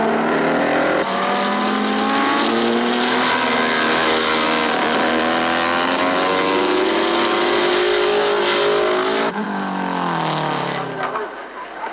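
Race cars at the 1954 Le Mans 24 Hours, including Ferrari and Jaguar, roar continuously with engine pitch rising and falling as they speed past, loud throughout and dropping off near the end.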